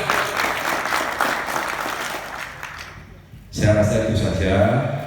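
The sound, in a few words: audience applause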